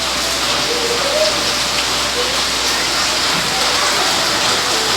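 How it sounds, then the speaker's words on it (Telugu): Heavy rain pouring down, a loud, dense, unbroken roar of falling water on surfaces that stays constant from start to end. "చాలా పెద్ద వర్షం వచ్చేస్తుంది ఈరోజు అయితే"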